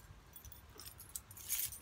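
A ring loaded with many collected keys jangles in quick, light metallic clinks, close and fairly soft, with no talking.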